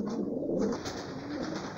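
Racing pigeons coo outside their loft in a soft, continuous low burble, several birds blending together at close range with no talk.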